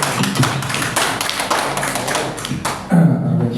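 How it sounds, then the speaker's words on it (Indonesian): An audience at a business plan presentation in a soybean house claps hands, giving loud, close, irregular slaps and thumps that run for a few seconds with no talk over them. "Tepuk tangan."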